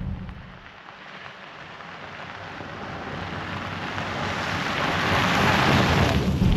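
Dense, steady heavy rain roars across the whole clip, heard from inside a Tesla car, building gradually louder toward the end with no voices.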